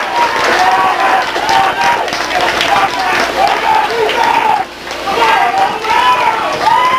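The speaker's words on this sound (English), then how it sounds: "this big crowd on their feet cheering the Mount Vernon Rams defense" Big football crowd on their feet cheering the Mount Vernon Rams defense at a high school game, a loud, continuous roar of cheers and clapping with whoops rising throughout, a brief dip near the end.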